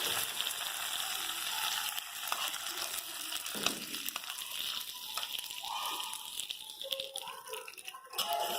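Tempering of curry leaves is stirred into Kerala ginger curry (inji curry), giving a steady sizzling hiss with scraping and clattering of a spoon against the pan, fairly close and continuous.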